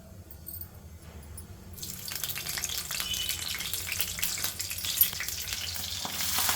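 Cumin seeds and green chilies sizzling and frying in oil in a kadai, a soft crackle that swells into a denser, brighter sizzle partway through and continues steadily, close up with no talk.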